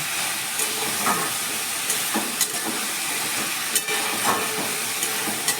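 Brinjal and potato curry sautéing in oil in a pan, a loud, continuous hissing sizzle with faint scraping stirs now and then.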